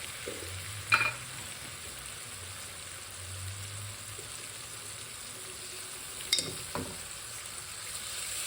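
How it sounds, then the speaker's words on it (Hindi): Spices sizzle softly in a pan with a faint, continuous hiss, broken by a couple of sharp clinks of a spoon stirring, while cooking achari daal. "तो मसाला जो है हमारा भून गया।"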